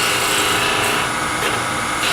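A skew chisel rolls a large bead on a wood lathe, a loud continuous hissing, rasping cut over the spinning workpiece, close up and steady for the whole stretch.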